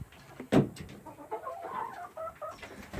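Chickens in a chicken coop cluck and murmur nearby, with one sharp louder squawk early on, followed by steady soft clucking calls.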